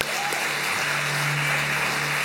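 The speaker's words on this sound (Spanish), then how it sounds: "aplaude fuerte" A congregation at a Spanish-language worship gathering claps together in steady, moderately loud applause, with a faint tonal hum running underneath.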